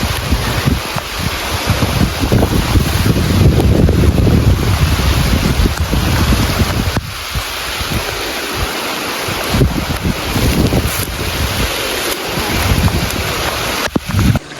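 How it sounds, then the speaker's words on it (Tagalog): Strong wind with rain on a mountain road roars continuously, buffeting the microphone with loud, rumbling gusts that swell and ease throughout. "Ang hangin. May kasamang ulan."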